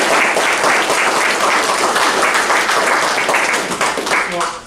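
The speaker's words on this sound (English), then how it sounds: "let's give him a round of applause." Dense, loud audience applause at a financial advisor workshop, steady throughout and tapering slightly toward the end, with a few voices underneath.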